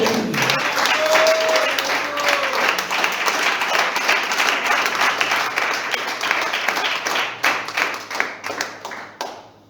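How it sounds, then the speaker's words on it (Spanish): A church congregation breaks into applause, dense clapping that stays loud for several seconds and then thins into scattered, fading claps. "Aplausos."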